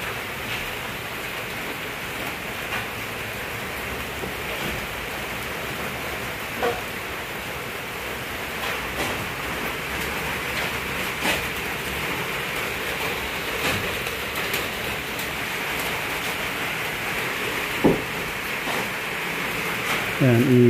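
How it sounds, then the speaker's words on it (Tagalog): Heavy rain pours in a constant, loud, broadband roar, with occasional faint knocks and bumps near the end. "Nag-ulan ng malakas."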